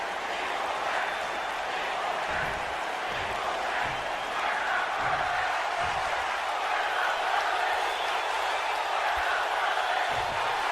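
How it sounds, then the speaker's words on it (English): Arena crowd noise from a wrestling match in the video game WWE 2K19, a steady broad roar of cheering that stays at an even level throughout, with low thumps scattered underneath. "Crowd seems solidly behind Johnny Wrestling."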